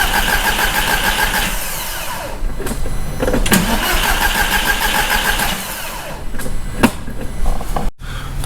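An Audi TT 225 engine with a suspected bad head gasket cranks continuously during a compression test, a loud steady rhythmic churning of the starter with brief pauses near the end.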